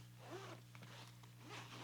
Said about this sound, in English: This one zips out pretty wide open.